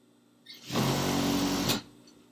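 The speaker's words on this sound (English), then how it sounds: "And now I'll sew the inseam." A sewing machine stitching a trouser inseam, one steady buzzing run of a little over a second that starts and stops abruptly, close and loud with no talking.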